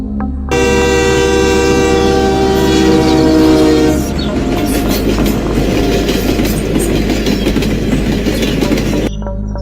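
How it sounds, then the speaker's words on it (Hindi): A loud, sustained train horn blares for several seconds, then gives way to the heavy rumble and clatter of a train arriving at a station, close and continuous with no talking. "तभी दूर से ट्रेन के हॉर्न की आवाज सुनाई देती है"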